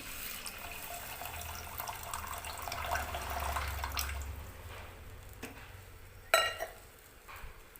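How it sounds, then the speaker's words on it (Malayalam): Tamarind water pours steadily into a pot with a soft, continuous splashing, tapering off, followed by a brief clatter. "ഇതിലേക്ക് ഈ പുളി വെള്ളം ഒഴിച്ച് കൊടുക്കുകയാണ്"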